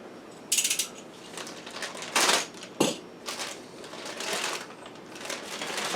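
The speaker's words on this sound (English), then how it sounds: "we're going to cut this one open" Plastic bag of cable ferrules for a solar setup being cut open, a few sharp crinkling snips and rustles with a small clatter of metal parts, close and separated by pauses.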